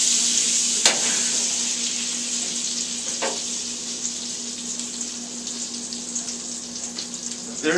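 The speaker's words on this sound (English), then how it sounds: "Keep basting the steak." A steak basted in a hot pan over a flame gives a steady, fairly loud sizzle and crackle throughout, with a few sharp spatters breaking through; no one speaks.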